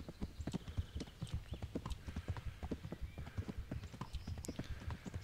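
A horse gallops in Kingdom Come: Deliverance, its hooves pounding in a fast, steady clip-clop rhythm that sits close and loud and runs throughout, with occasional snorts.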